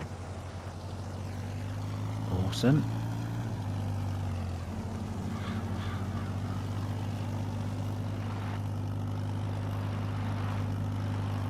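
A fully loaded tractor in Farming Simulator 22 drives along with a steady, low engine drone that hums evenly throughout. A single brief spoken word rises briefly above it near the start.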